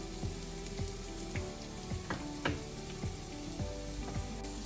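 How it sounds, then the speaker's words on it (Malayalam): Clam meat sizzles steadily in a hot pan while it fries, with sharp pops and crackles breaking out every half second or so over a constant close frying hiss. "നമ്മുടെ കക്കായിറച്ചി കിടന്ന് പൊട്ടുന്ന സൗണ്ടൊക്കെ കേൾക്കുന്നുണ്ടല്ലോ"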